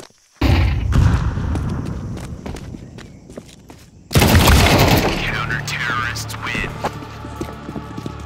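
In Counter-Strike 2, a thrown flashbang grenade bursts with a sudden loud crack over footsteps and movement, then a high, wavering ring lingers for several seconds.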